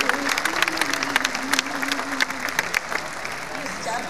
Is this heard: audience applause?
yes